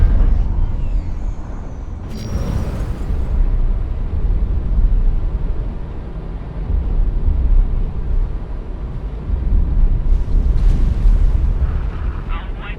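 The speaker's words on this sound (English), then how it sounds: "Explosion imminent." A massive, roaring explosion rumbles in the space game X4 Foundations, a loud sustained low boom with crackling bursts that swell again near the end.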